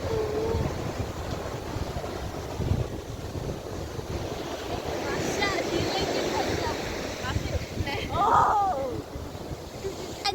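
Strong wind buffets the microphone over the rolling wash of waves at a beach, a continuous rough roar with voices talking faintly through it.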